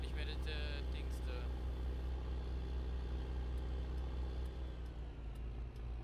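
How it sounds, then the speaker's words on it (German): A truck engine in the farming game Landwirtschafts-Simulator 15 produces a steady, loud, low drone that holds through the whole stretch, with a few brief higher clicks early on. "LKW."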